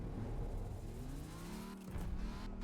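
An Audi Q7 engine runs with a steady low hum and a faint rising whine, fairly quiet and continuous, with no talk over it.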